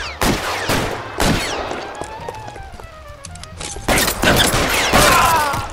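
Gunfire in the video game L.A. Noire during a theatre robbery street crime: a burst of sharp, loud shots at the start and again near the end, with ringing tails between and no talk.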